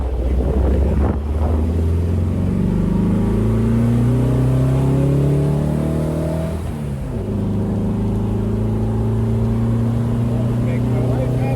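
A 1973 VW Thing with a newly installed engine driving on the road, its engine droning loud and close as it climbs through the revs, shifts around the seventh second, then pulls again under wind noise.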